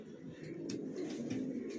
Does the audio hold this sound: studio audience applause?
no